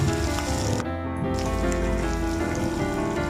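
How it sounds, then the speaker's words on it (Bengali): Ginger and green chilli paste fries in ghee in a pan, a continuous close sizzle with soft popping and crackle holding steady, with a faint tonal hum running underneath. "সবগুলো একটু ভেজে নিচ্ছি, আদা বাটাটা একটু ভেজে নিচ্ছি।"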